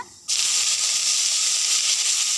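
A sudden loud sizzle bursts in as curry leaves drop into hot oil with popped mustard seeds, holding as a steady bright hiss.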